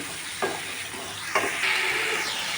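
Bottle gourd curry sizzles in a hot pan as it is stirred: a steady, close frying hiss broken by two sharp stirring knocks, with no talking.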